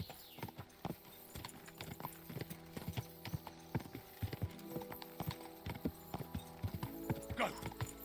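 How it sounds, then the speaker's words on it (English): A horse gallops in the medieval game Kingdom Come: Deliverance 2, quick rhythmic hoofbeats drumming close and steady throughout, with light game ambience and a brief whinny-like sound near the end. "Go, horsey, go."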